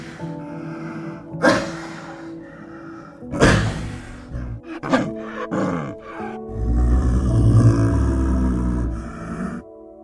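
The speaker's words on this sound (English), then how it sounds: "This is the roar of the rare snow leopard." A rare snow leopard gives several sharp, breathy roaring bursts, then a long low rumbling growl, close and fairly loud with no voices.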